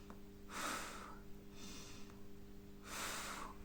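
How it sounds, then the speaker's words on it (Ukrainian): A person breathes in through the nose and then exhales in a long, soft breath through the mouth. The breaths come three times as quiet, close airy bursts over a low hum. "Вдих носом, видих ротом, довгий видих ротом"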